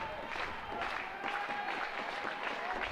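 Stadium crowd at a college baseball tournament game clapping and cheering steadily as the home team sits one strike from the end, a dense, moderately distant roar of applause with voices mixed in.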